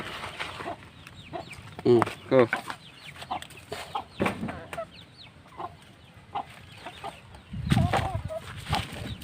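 Hens cluck in short bursts close by while people talk over them, with a louder squawk near the end.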